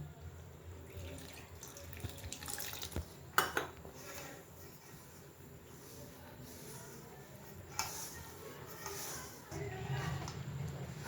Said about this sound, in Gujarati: હવે આપણે એમાં જોઈતું પાણી નાખીશું